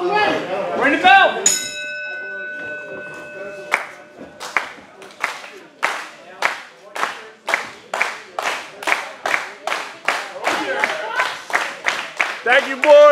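A wrestling ring bell clangs a few times at an independent wrestling event, then a crowd claps in a steady, even rhythm that grows slightly faster, all loud and close.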